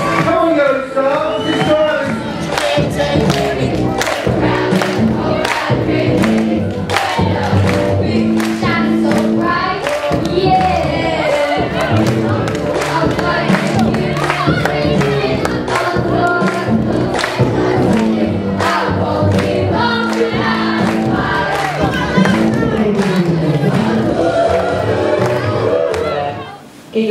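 Students and staff at a school eisteddfod raise a big, continuous roar of cheering, chanting and clapping with rhythmic thumps, loud and close, and it holds steady for nearly half a minute before cutting off abruptly.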